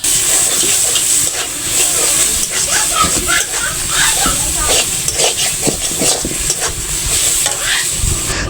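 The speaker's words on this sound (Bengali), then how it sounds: "মরিচ পেঁয়াজ ভেজে ওর মধ্যে ফুলকপিটা ম্যাশ করে আর কি কিছুক্ষণ ভেজে নিচ্ছি" Onion and chili sizzle and fry in a pan with mashed cauliflower for a Bengali bharta, a steady loud hiss broken by repeated scraping stirs throughout.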